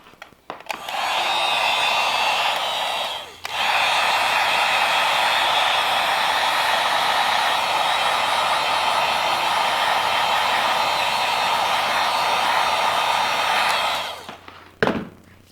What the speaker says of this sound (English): this is what you'll have to do also with the heat gun